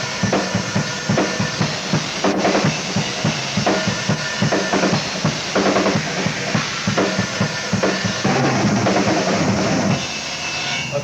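Drum fill played on a drum kit at a drum clinic, a dense run of rapid, loud hits with repeated accents and cymbal wash, continuous for about ten seconds before cutting off.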